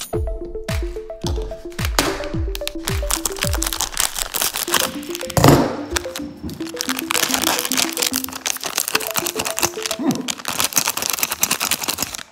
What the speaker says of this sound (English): Scissors are getting a little dull.